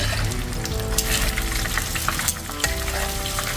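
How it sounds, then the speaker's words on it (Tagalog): Loud, steady crackling sizzle of tilapia frying in hot oil in a pan, close up and continuous, with occasional pops and scraping stirs. "Prito na natin yung ating mga tilapia"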